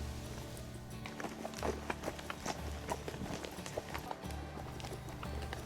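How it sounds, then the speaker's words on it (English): Horse hooves clop steadily along a trail in the Athabasca River valley near Jasper National Park, a continuous irregular clatter of hoofbeats close by, with a low rumble underneath and no talking. "The sounds of the horse hooves clopping along the trail"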